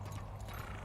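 A horse's hooves clip-clop in a quick, steady rhythm as a player rides in the game Lost Ark, close and even under faint background sound.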